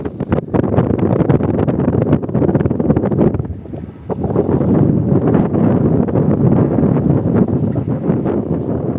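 Heavy wind buffets the microphone in continuous rough gusts while cycling near Pamukkale, Denizli, briefly easing for a moment before roaring back just as strong.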